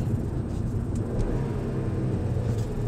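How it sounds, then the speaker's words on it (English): A manual-transmission car engine idles and revs through a rev-matched downshift, a steady low rumble that stays loud and close throughout with only slight swells and no talking. "put in the clutch, put in a lower gear, rev up, and release the clutch"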